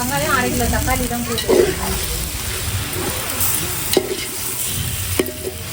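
A biryani base of onions and tomatoes sautés in a pot, giving a loud, dense sizzle with occasional scraping thumps of a ladle stirring. No one speaks.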